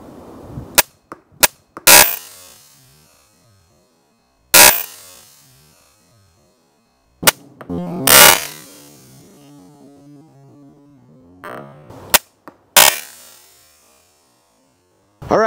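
A Bat Reverse pistol crossbow shoots broadhead arrows, producing sharp, loud snaps that come singly and in quick pairs over about fifteen seconds. Some shots ring out briefly, with quiet gaps between them.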